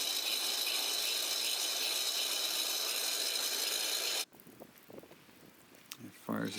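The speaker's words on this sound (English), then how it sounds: "Cranking to get some air in there, get it started." A hand-cranked air blower on a charcoal forge fire gives a steady, loud rushing whir that runs continuously, then cuts off abruptly, leaving quieter scattered clicks and faint crackle.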